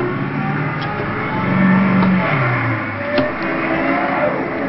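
A manual car in reverse gear revs steadily as the clutch is eased out and gas is applied. The engine hum is close and continuous and swells briefly in the middle.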